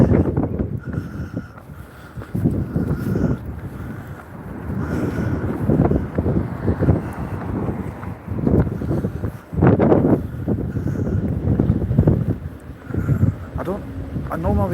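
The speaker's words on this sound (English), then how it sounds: "It's rather windy here." Gusty wind buffets the microphone with a low rumble while someone talks over it throughout, outdoors in Ayr.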